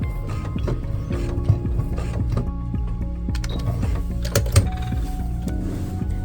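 Sewing machine stitching a baby quilt, a steady mechanical whirring hum with regular rhythmic needle clatter and a couple of brief sharper clicks as stitches lock, close and continuous with no talking.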